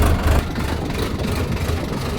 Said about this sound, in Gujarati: ટ્રેક્ટરથી દાંતી આંકવા જઈએ